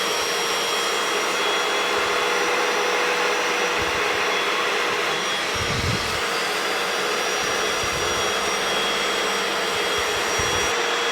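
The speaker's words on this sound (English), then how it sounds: "And then we'll use our extractor, and by extracting all this out, it's going to help remove all the product." An upholstery extractor pulls dirt, cleaning product and water out of the car seats of a 15-year-old Subaru WRX, giving a loud, continuous hissing suction roar with brief gurgling surges as the nozzle moves.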